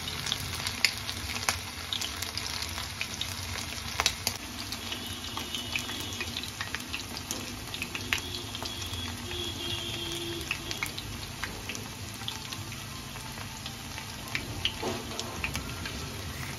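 Chicken wings going one by one into hot white cooking oil, giving a steady, even hiss and crackle with scattered small pops and occasional sharper spatters, moderately loud and continuous, with no talking.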